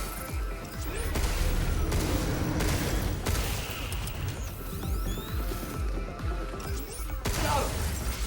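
Video game gunfire comes in bursts of sharp shots and crashing impacts, with pauses between volleys and scattered clattering debris, all fairly loud and close.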